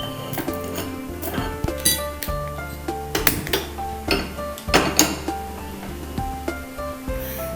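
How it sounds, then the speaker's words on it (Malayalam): A pan is set down on a kitchen stove while making biryani masala powder, giving several metallic clanks and clinks of cookware over steady background music. "ആദ്യം നമുക്കൊരു പാന് അടുപ്പത്ത് വയ്ക്കാം."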